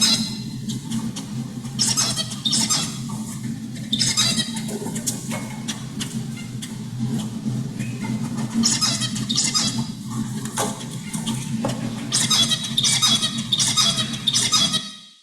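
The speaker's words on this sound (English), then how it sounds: "It's repetitive and a little bit chirpy" A young songbird's father sings his tutoring song: repetitive, chirpy bursts of notes recurring through the whole stretch, fairly close and steady, over a low constant hum.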